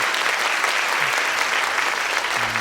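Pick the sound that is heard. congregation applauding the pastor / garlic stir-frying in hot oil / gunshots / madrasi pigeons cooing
congregation applauding the pastor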